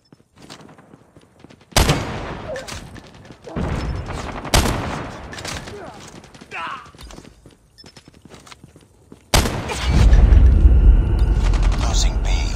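Call of Duty Mobile match with loud, close bursts of rapid gunfire and heavy explosive booms, including a grenade blast, cutting in and out in several sharp sections.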